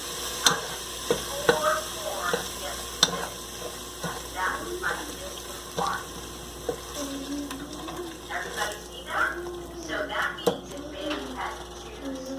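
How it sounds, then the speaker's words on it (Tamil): A ground spice paste for a quick pressure-cooker biryani is sautéed in a pan, with steady sizzling and frying under repeated scraping and stirring strokes of a spoon against the metal, close and moderately loud. "இந்த பேஸ்ட்டு நம்ம இப்போ பச்சை வாசனை போகிற வரைக்கும் லைட்டாக வதக்கி விட்டுடலாம்."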